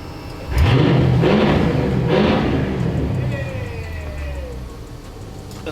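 A modified Mercedes-Benz SL55 engine revs sharply in a few quick bursts up close, then settles back toward a lower rumble.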